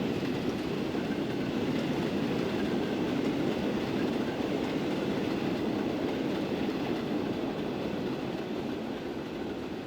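Trains on a Transport Fever 2 rail network near London King's Cross rumble steadily, a continuous dense rolling roar of wheels on track, unbroken throughout with no voices.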